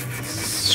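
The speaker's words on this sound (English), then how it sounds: "Scrubbing away." Steady rubbing scrub on the tarnished brass of a 1917 H N White King baritone saxophone in a backyard, a continuous close rasp that swells briefly near the end, with faint music in the background.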